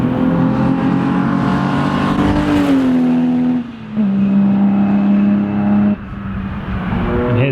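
Jaguar E-Type engine running steadily at close range, a loud low droning idle whose pitch rises and settles in slight revs, with brief dips in level partway through and no talk over it.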